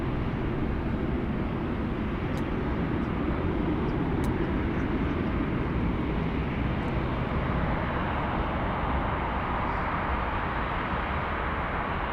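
A Northern Air Cargo airplane takes off, a broad steady engine roar sustained throughout at close range, with faint clicks on top and no voices.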